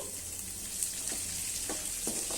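Crushed garlic dropped into a hot frying mixture for garlic churumuri snack, giving a steady close sizzle with a few soft stirring taps, no voices.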